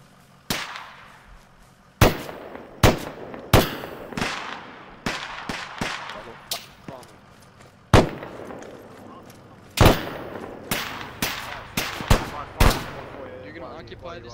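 Gunfire in the military shooter ARMA 3: repeated loud cracking shots and short bursts at irregular intervals, some close and some echoing farther off, with voices talking between them.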